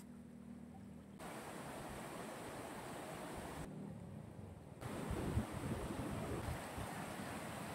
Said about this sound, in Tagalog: Ito naman sobrang lakas ng agos.